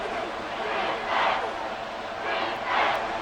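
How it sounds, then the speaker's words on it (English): Stadium crowd in Madden 24 during a Chiefs vs Raiders football game, a steady roar that swells twice into louder cheering surges ahead of a big third down. "The crowd getting into it as we come up on a big 3rd down"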